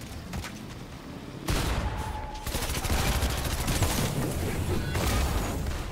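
SMG gunfire in the video game Fortnite: a dense, loud burst of rapid automatic shots erupts after a brief quieter stretch of smaller pops and carries on almost unbroken to the end.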